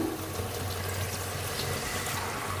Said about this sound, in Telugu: ఇప్పుడు మన కర్రీకి కావాల్సిన నీళ్ళు అయితే పోసుకుందాం